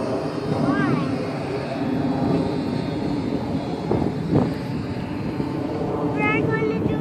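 A Sky Surfer v5 radio-controlled model airplane whines steadily through the air outdoors, its motor drone continuous under wind buffeting, with a child's and adult's voices talking over it.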